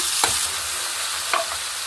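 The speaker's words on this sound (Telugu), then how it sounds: "ఇలా కొంచెం ఫ్రై చేసుకోవాలా చూడండి" Boiled broad beans (chikkudukaya) sizzle steadily in a hot pan, with a couple of brief scraping stirs of a utensil.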